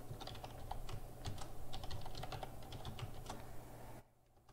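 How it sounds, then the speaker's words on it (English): Steady, rapid clicking of keys on a computer keyboard, close and moderately quiet over a low hum, continuing for about four seconds before stopping. "so we will type in here scan interval"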